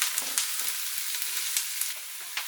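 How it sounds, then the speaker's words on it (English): Onion and garlic frying in a pan for a smoky BBQ sauce give a constant close sizzle, broken by a few spoon scrapes and taps as they are stirred, with no voices. "I just want to keep that stirring and frying now until the onion's gone completely translucent"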